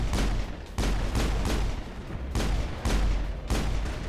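Rapid pistol shots in a shooter game crack out in a steady rhythm, five or six loud, close reports with brief gaps between them.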